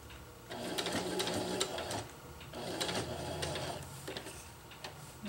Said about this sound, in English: And I'll sew up.